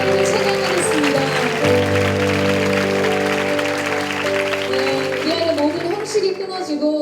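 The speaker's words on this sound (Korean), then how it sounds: "다시 한번 그 남성과 박수로 오신 하나님을 찬양하겠습니다" Congregation applause at a Sunday youth worship service at Onnuri Church, a broad wash of clapping running beneath sustained keyboard or organ chords and a voice speaking.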